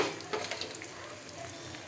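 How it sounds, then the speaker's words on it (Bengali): Eggplant fritters (beguni) crackle and sizzle softly in hot oil, a steady frying hiss with a few brief spatters, fairly quiet and close. "লাল লাল করে আমার এই বেগুনি ভাজা হয়ে গেছে"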